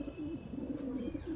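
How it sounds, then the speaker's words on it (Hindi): A white pigeon coos softly nearby, a low throaty warbling that rolls and repeats over a quiet background. "ये वाइट वाला इतना गुटकता है क्या बताऊं"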